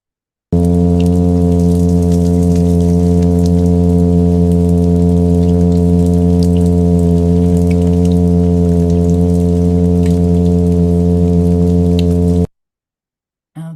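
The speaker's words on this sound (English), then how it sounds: "That's the sound of the plain fin midshipman basically vibrating the air sac that's inside of a lot of different kinds of fish called a swim bladder." A plainfin midshipman fish hums by vibrating its swim bladder, a loud, steady, droning buzz with rich harmonics that holds unbroken for about twelve seconds before cutting off abruptly.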